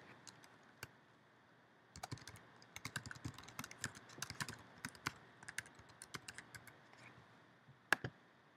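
Typing on a computer keyboard: quiet, close key clicks in irregular bursts and runs, with brief pauses between groups of keystrokes, no voices.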